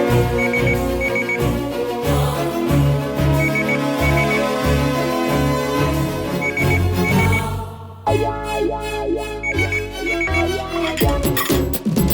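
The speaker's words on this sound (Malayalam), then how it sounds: "ലാൻഡ് ഫോണിലേക്ക് വിളിക്കാം." A household landline telephone rings steadily and loudly in repeated pulses, layered over dramatic background music that shifts midway, with no talking.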